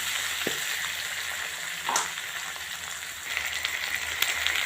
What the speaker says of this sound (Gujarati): આપણે ટામેટાં નાખી દઈશું. ટામેટાં બી બહુ જ સરસ મજાના પહેલાં શેકવાના છે.